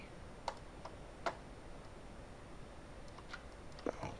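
Scattered faint clicks of a computer keyboard and mouse, a few sharp ticks spread irregularly over quiet background hiss while working in MotionBuilder 2016 animation software.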